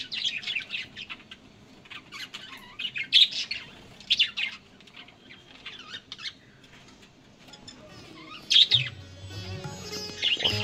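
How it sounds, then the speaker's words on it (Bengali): Many birds chirp and tweet together in a lively chorus, calls overlapping near and far, with a brief low musical tone toward the end. "অসাধারণ পাখির কলরব।"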